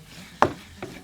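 Pepper and salt are stirred in a pan for seafood enchiladas, giving two brief knocks of the utensil, one louder than the other, in a quiet kitchen.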